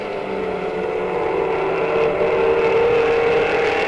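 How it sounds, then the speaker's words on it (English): Race car at Monadnock Speedway with a sour, rough-running engine during weekly racing, a steady loud droning whir with wavering tone and slight rise in level, no talk over it. "Something's gone bad in the number 13, as you can hear by the sound of that engine."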